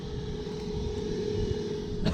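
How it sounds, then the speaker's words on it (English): Steady low hum of a newly installed exhaust fan running next to brand new air conditioner units, a constant drone with a faint tonal whine and no talking. "Oh, never mind, that's this exhaust fan."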